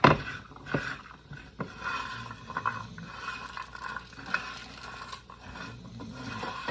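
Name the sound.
nuts browning and being stirred in a hot pan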